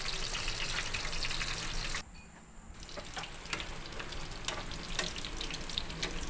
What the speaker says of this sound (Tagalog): magpainit tayo ng mantika. Pag mainit na, ilagay na po natin ang ating fish fillet